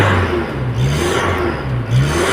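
The 3-litre 1KZ-TE turbo diesel in a Toyota Hilux Surf, running after an injection fix, revs up and down repeatedly in a close, loud, rough engine drone with a turbo whir layered over it.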